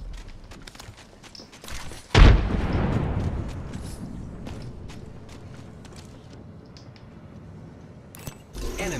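A frag grenade goes off in Apex Legends with a single loud, sharp blast that decays into a long rumbling tail. Faint clicks and gunfire surround it, and another burst follows near the end.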